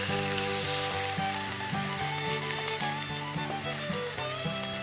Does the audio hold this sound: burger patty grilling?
yes